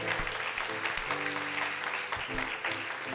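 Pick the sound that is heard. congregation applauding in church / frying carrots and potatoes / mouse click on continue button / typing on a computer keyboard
congregation applauding in church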